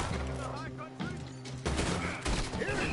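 A short burst of rapid, overlapping gunfire from guns in Red Dead Redemption 2 rings out in quick succession over game ambience.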